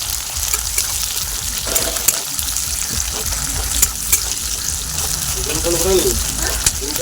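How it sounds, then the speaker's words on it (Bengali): Onions frying in hot oil for a chicken-and-egg biryani give a loud, steady sizzle and crackle throughout, with occasional stirring scrapes and faint background voices. "পেঁয়াজটা ফালতে ফালতে মশলাটা বেটে নেবো"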